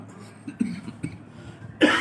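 A single short cough near the end follows a few quiet throat sounds and faint breathy noises, close and moderately loud.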